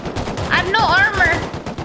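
Gunfire from players shooting in the survival game Rust, quick rattling shots under a voice shouting and singing over them, close and loud.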